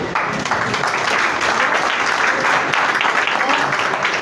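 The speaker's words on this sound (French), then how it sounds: "Encore une fois, des applaudissements pour lui." Audience applause after a speech at a live stage show, dense sustained clapping that fills the whole stretch at a strong, even level.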